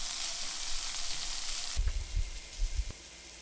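Grated potatoes for Swiss rösti sizzle in oil and butter in a pan, a steady bright hiss at first, then low soft thumps and clatter as the pan is handled, no talk.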